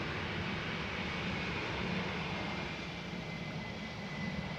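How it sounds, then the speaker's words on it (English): A KLM Boeing 737-900 arriving at Amsterdam Schiphol on a misty day, heard as a steady, broad engine roar that holds fairly level throughout with no voices. "The first one, a KLM Boeing 737-900 arriving from Milan."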